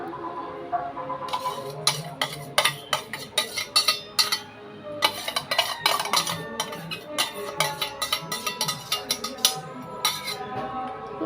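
Egg and milk mixture for caramel pudding being whisked in a bowl, a utensil clinking rapidly and steadily against the sides in close, bright repeated taps with brief pauses.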